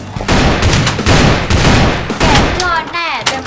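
Heavy gunfire in a short film about a beloved robot comes in dense rapid bursts, loud and close, with a few brief breaks and some voices mixed in.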